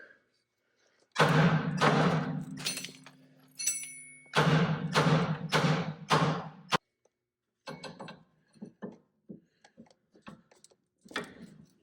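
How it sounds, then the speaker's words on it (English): Metal thuds and clanks ring out as a hammer strikes a tie rod fork to separate the steering linkage on a Dodge Ram Cummins 2500/3500, several loud hits in bursts followed by lighter taps and rattles. "We'll see if we can give it a smack, if it'll pop apart."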